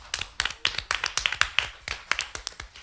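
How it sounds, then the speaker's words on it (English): Scattered clapping from a small audience at a student union candidate question time, with separate claps close together for under three seconds. "Can we give Shauna a round of applause?"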